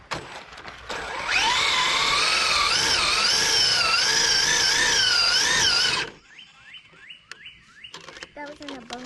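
Traxxas Drag Slash RC truck motor driving past, giving a loud, steady high-pitched electric whine with wavering pitch for about five seconds. It then cuts off, leaving faint chirps and background sounds.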